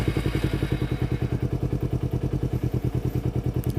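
A motorcycle engine idles close by with a steady, fast chugging pulse, loud and even throughout with no other sounds over it.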